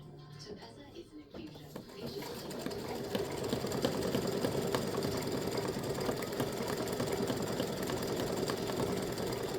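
An embroidery machine stitches stars in blue thread, starting with a few quiet clicks before settling into a steady, fast mechanical whir with a rapid needle rhythm, close and loud, with no talk.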